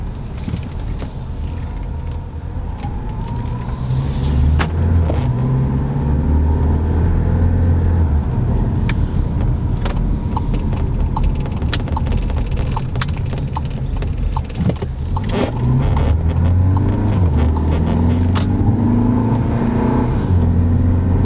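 Volkswagen Tiguan engine with turbo inlet and turbo muffler deleted, rumbling steadily as the vehicle drives, with road noise and occasional knocks and rattles, a low drone throughout and no talking.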